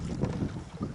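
Wind buffets a microphone on a fishing boat at sea, a short, faint burst of low rumbling gusts and flutter.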